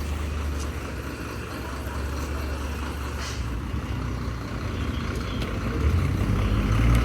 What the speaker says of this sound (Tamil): அப்படியே அந்த வண்டி கிளம்புதுங்க